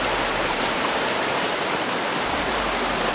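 River water rushing steadily over rocks in a remote, secluded spot, a loud, continuous broadband roar that holds unbroken from start to finish with no voices.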